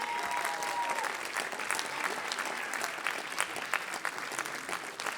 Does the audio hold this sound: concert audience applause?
yes